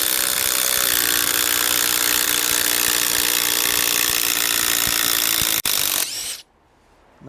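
A Makita high torque impact driver backing screws out, a loud continuous whirring drone held for about six seconds before cutting off abruptly, then near silence.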